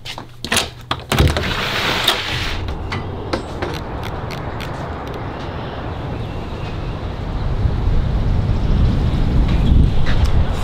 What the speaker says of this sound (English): It stopped raining, it's just really windy and cold now.